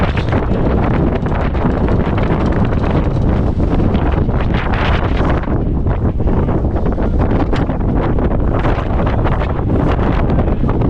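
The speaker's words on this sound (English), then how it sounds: "Well, it's windy out here, folks." Loud, constant wind buffeting the microphone on a ferry, a heavy low rumble with gusty fluctuations and no speech.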